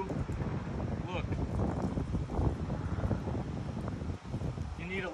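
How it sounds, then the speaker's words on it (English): Strong wind buffets the microphone outdoors during car polishing, a continuous low roaring rumble with gusty swells that fills the whole stretch. "it's really windy out"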